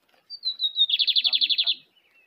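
A caged bigodinho, or lined seedeater, gives a short song up close: a thin high whistled note sliding down, then a fast run of about ten buzzy trilled notes, clear against quiet surroundings.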